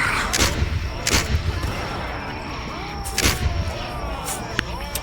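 Musket volleys fired in a VRChat fantasy roleplay battle: several loud, sharp cracks spaced a second or two apart over a constant noisy background of battle ambience.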